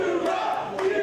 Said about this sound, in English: the crowd getting more vocal here at the Alpine Club